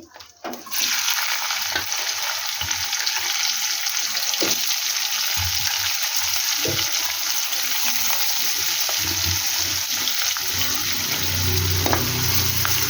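Onions and green chillies hit hot oil for a chicken liver curry and burst into a loud, steady sizzle that holds for the rest of the clip, with a few faint clinks of utensils.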